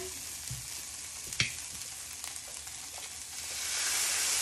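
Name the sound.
vegetables stirred into frying rice in a pan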